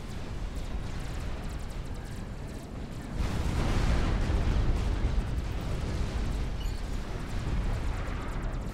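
Galaxy units in Supreme Commander pummel the front line with continuous rumbling barrages of explosions and artillery-like booms, a dense, steady roar that swells partway through and stays loud.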